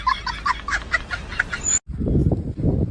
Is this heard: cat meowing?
no